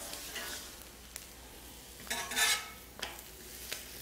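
Tortillas warming in olive oil on a Blackstone griddle give a faint, steady sizzle, broken by a few soft scraping and clinking bursts as they are moved around, with no voices.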